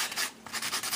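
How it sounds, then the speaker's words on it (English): Sandpaper rubs along paper edges in quick, close back-and-forth strokes, a short burst of dry, gritty scratching with no talking. "around the edges there's some loose bits, and I'm going to use the sandpaper"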